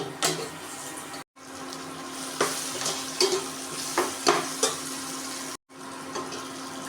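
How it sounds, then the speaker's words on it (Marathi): Onions frying in a pan for an akkha masoor curry, a continuous sizzle with scraping stirs and occasional sharper clinks of the spatula, close by, broken by two brief silent cuts. "कांदा अशा प्रकारे भाजून घ्यायचा आहे"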